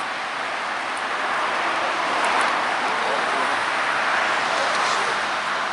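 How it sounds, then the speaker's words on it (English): Steady broadband road traffic noise fills the whole stretch at a constant moderate level, a continuous roadside rush of passing cars with no distinct individual vehicle standing out. "Hard to hear here with all the traffic."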